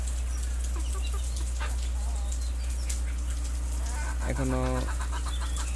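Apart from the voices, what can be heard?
domestic hen clucking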